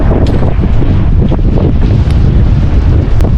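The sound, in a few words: strong wind on microphone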